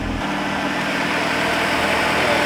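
A car engine idling up close, a loud, steady rumble with an even low pulse that holds without a break.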